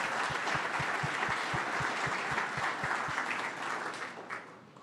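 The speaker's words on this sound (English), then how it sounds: "So another round of applause for our professional service providers." An audience at a startup demo day event applauds in a broad, sustained wash that gradually thins and fades toward the end, with a steady rhythmic low thump beating under the first few seconds.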